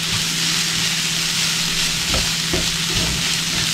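Grated coconut being stirred into crushed dry fish in a pan for a Kerala-style chammanthi, with a steady frying sizzle and intermittent scraping of a spoon across the pan, close and continuous, with no one speaking.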